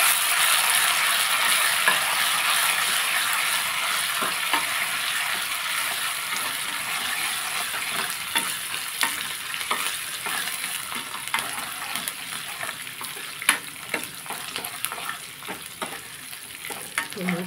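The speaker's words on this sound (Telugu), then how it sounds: "చారు తాలింపు వేసేసుకున్నాం." Spices for a rasam tempering, namely fenugreek seeds, dried red chillies, curry leaves and coriander, sizzle and crackle steadily in hot oil, close and fairly loud. Occasional stirring clicks sound throughout, with no talking.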